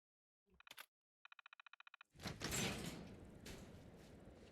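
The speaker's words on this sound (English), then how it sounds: "Open the door, please." A door in the game Fallout 4 opens: a short mechanical clunk, a rapid run of evenly spaced electronic beeps, then a loud whooshing slide that trails into a lingering hum.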